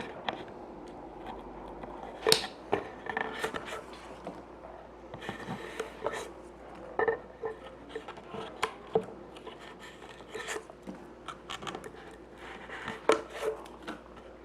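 A knife scrapes and pries stiff cardboard pieces out of a floater frame holding a stretched canvas, giving quiet irregular clicks, snaps and rasping scrapes scattered across the stretch, fairly close and with no talking.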